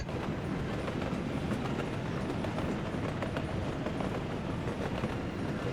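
Trains running on a rail line in the Workers & Resources: Soviet Republic simulation game, a steady rumbling roll with faint rhythmic clatter, moderately quiet and continuous.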